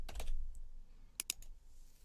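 Several quick computer keyboard keystrokes in a short burst, then a few more isolated clicks; close and fairly quiet, no voices, with a faint low background rumble.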